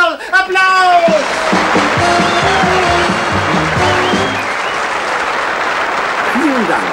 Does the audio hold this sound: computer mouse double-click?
no